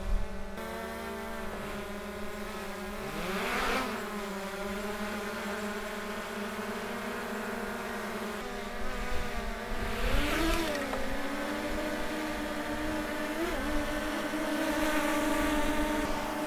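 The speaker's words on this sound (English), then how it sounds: "let's get the other two drones up just so we can do a side-by-side sound test" Three DJI drones hover low in a back garden, their propellers making a close, continuous layered buzz whose pitch swoops up and down as they manoeuvre, with no talking.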